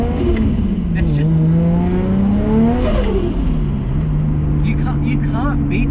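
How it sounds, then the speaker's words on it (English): A turbocharged Nissan R33 race car with no blow-off valve, its engine revving loudly up and down close by, with turbo flutter chatter on lift-off between pulls. "There's no blow-off valve in existence that can beat that flutter sound"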